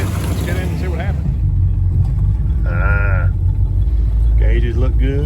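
A 1965 Dodge Coronet with a 360 V8 idles and runs with a steady low rumble throughout, close by, while voices speak over it.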